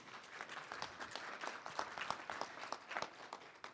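Audience applause at an annual meeting, a steady wash of many hands clapping throughout, moderately distant and fairly quiet, with no talk over it.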